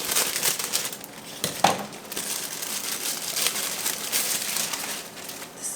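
A plastic bag crinkles and rustles as it is cut open while unboxing an Instant Pot air fryer lid, with short crumpling bursts and one sharper crackle close by.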